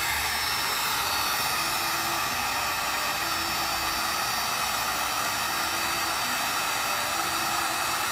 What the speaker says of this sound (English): And how am I gonna erase it? With my heat gun.